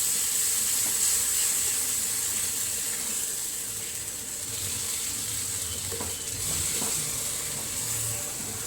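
Chickpeas frying with chilli powder, coriander powder, turmeric and garam masala, giving a steady close sizzle with a few scraping stir strokes partway through.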